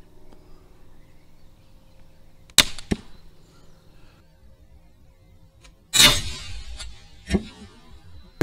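A slingshot crossbow fires an arrow: two sharp slapping releases a few seconds apart, each a loud crack with a quick fade, over a quiet outdoor background hum.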